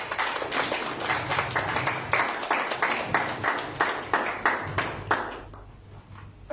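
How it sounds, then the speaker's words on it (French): A church congregation applauds a translator, with steady rhythmic clapping from many hands, fairly close and continuous for several seconds before trailing off. "Acclamons pour elle."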